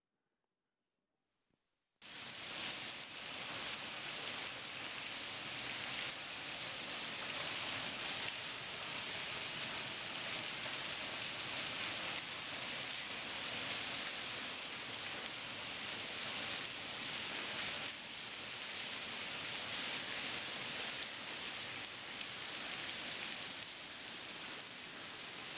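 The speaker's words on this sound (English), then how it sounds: "I want to show you a video of what's happening right behind this screen whenever it rains." Steady rain leaking through a church roof behind a screen, a dense continuous hiss of falling and splashing water that starts abruptly after a moment of silence and holds at an even level throughout.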